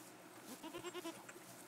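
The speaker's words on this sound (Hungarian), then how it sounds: "Megkegett a kecske." A goat bleats in the Rising World video game, a quiet, brief wavering cry with a few short pulses, heard alone against soft background ambience.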